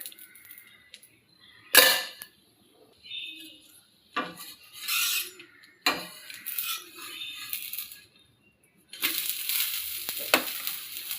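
Oil sizzling on a ragi dosa spread on a dosa griddle, heard in several separate bursts of crackling hiss with quiet gaps and light utensil clinks between them, close and moderately loud.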